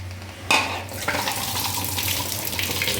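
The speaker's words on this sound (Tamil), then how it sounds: "இப்போ தண்ணி வடிச்சிக்கலாம்." Water pours out in a steady splashing stream as boiled chickpeas are drained, starting abruptly and running continuously into a sink, fairly close and loud.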